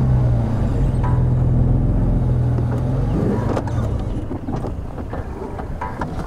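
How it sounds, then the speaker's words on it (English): A safari vehicle's engine rumbles low and steady while it edges forward slightly, close by, with wind buffeting the microphone and the motor sound easing off toward the end. "reposition the vehicle ever so slightly."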